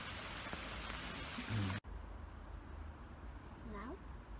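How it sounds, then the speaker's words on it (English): Steady rain patters outdoors with a dense, even hiss, broken by a sudden thump, then continuing more softly while people talk over it and faint bird calls come through. "It's a damn shame it's raining."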